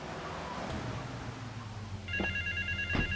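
A ringing phone booth in Grand Theft Auto III, its steady electronic bell repeating in two bursts over game background noise and a low hum.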